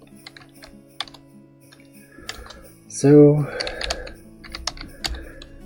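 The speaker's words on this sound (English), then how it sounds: "if I can type, because I'm having trouble typing" Close clicking of keys on a computer keyboard comes in quick, irregular bursts of typing, with a voice briefly speaking over it partway through.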